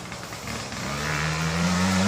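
A 1990 Suzuki RM125 two-stroke dirt bike rides along a trail, its engine droning and rising in pitch as it accelerates toward the listener over about two seconds.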